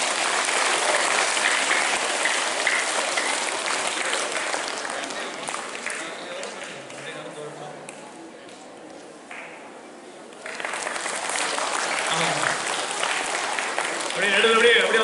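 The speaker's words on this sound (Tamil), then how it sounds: "நல்லா கைதட்டுங்க பார்ப்போம்." A crowd at a Christmas celebration breaks into sustained clapping, which thins to a quieter patch midway and then swells back to full, lively applause.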